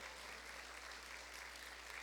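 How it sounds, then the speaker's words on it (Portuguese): A church congregation claps steadily, a quiet, even patter of many hands with a low electrical hum beneath it. "Aplauda mais forte."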